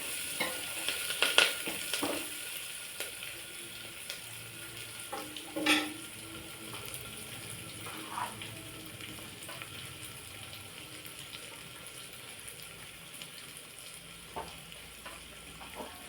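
Onions, green chillies and curry leaves fry in hot oil for a tempering while cooking elephant foot yam fry, a steady close sizzle with occasional stirring scrapes and a few brief clinks, no voices.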